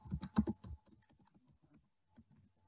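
Keys tapped on a computer keyboard while typing a name into a form, a quick burst of clicks followed by lighter, sparser taps and a brief pause before a few more.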